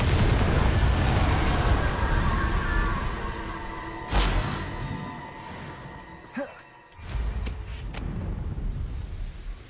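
Bombarda spell blasts in Hogwarts Legacy combat: loud booming explosions over a dense roar of game noise, with a sharp burst partway through and a brief drop before the din resumes.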